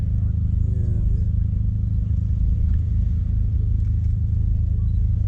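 A Rolls-Royce Silver Cloud III with standard coachwork pulls away at a classic car gathering, its steady low engine rumble holding loud and constant throughout, with faint crowd noise around.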